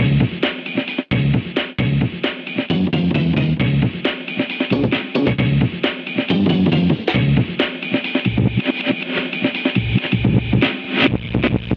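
A drum loop plays back from an old low-sample-rate sampler: a busy, driving pattern of punchy kicks, snares and cymbals with a dull, band-limited, gritty tone, continuous and loud throughout.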